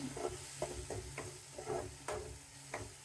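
Small shallots fry in a pan during a Sunday non-veg meal cooking session, giving a faint, steady sizzle broken by a series of light stirring clinks and scrapes.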